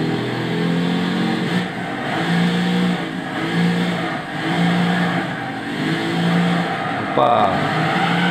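A BMW Z8 4.9 V8 from 2000 in Gran Turismo 6 revs hard in a steady pulsing drone as the rear steps out, with a sudden shift near the end and someone talking over the engine.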